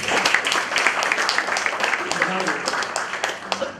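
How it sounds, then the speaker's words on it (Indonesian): An audience at a national seminar at Jenderal Soedirman University claps, a moderately dense patter of hands with distinct individual claps, mixed with crowd voices throughout. "Itu tepuk tangan dong untuk orang Indonesia."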